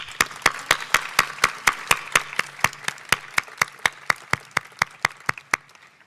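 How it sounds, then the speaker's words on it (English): Steady, evenly spaced sharp claps repeat about four per second, crisp and close, like a single pair of hands clapping on and on. "Will you please join me in applauding Laura, as well as all of our wonderful volun"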